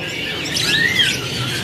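Brightly coloured canaries at a bird kiosk in Bandung chirp in short, high, overlapping calls over a steady background hiss, with no talking.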